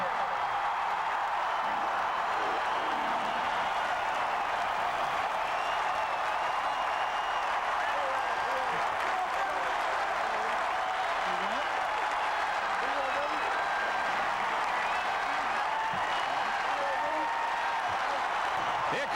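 Massive roar of applause and cheering from the largest home crowd ever at Penn State's Beaver Stadium during a 2001 college football game against Miami, a dense continuous wall of sound from start to finish.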